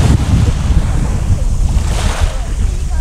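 Ocean surf and wind along an Auckland waterfront, a steady loud low rumble of breaking waves with gusty wind buffeting the microphone throughout.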